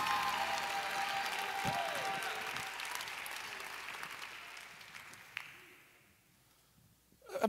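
A church congregation claps and applauds together in a steady, dense wash that tapers off over several seconds, leaving a quieter stretch before a brief rise of voices at the end.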